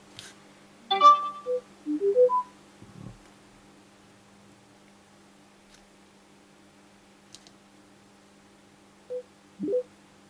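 A Bose SoundDock fitted with a Bluetooth 5.0 NFC upgrade kit plays a short run of rising electronic pairing tones, followed after a quiet pause by two brief softer tones, in an otherwise hushed room.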